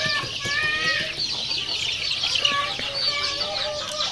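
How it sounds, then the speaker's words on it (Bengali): Native chicken chicks at a poultry sale, a steady chorus of high peeping and soft clucking from a group of young birds, moderately close. "দেশি মুরগি বাচ্চা।"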